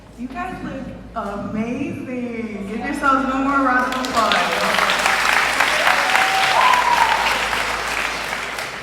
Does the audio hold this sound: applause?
yes